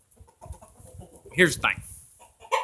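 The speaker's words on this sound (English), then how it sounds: "Right after I kill this rooster." A rooster in a barn lets out a couple of short, loud clucking squawks in the middle, with someone talking nearby before and after.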